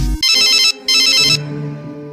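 A phone ringtone sounds loudly in two bright, tonal bursts separated by a short gap, then fades into a ringing tail as an incoming call from an uncle comes through.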